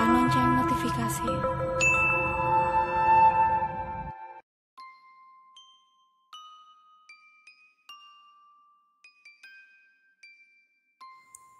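A dense burst of sound cuts off, followed by a series of clear, bright bell chimes ringing one after another with short gaps.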